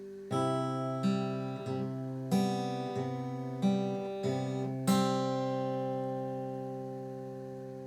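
Acoustic guitar strumming a full bar of a song, a series of sustained picked chords with about seven clear attacks ringing into a long fade, played alone with no voices.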